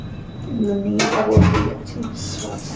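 A small metal wok pulled out and handled in a home kitchen, giving a sudden clatter and a few clunks of metal against other cookware, while people talk close by.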